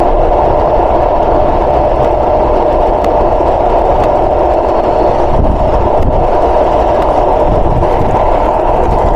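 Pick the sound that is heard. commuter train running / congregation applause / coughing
commuter train running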